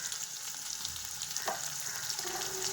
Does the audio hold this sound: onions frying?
yes